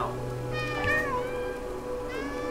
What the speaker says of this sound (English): Press Alt to meow.